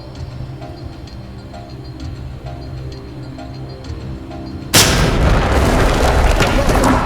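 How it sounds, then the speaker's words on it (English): A flashbang grenade goes off in the tactical shooter Ready or Not, one sudden loud close blast that cuts in after a stretch of quieter ambient game sound and leaves a sustained ringing wash. "flashbang it and clear All it"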